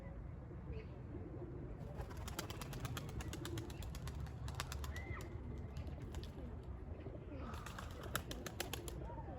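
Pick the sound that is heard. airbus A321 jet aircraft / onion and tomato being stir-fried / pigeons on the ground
pigeons on the ground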